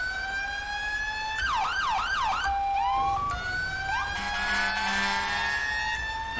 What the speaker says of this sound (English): my siren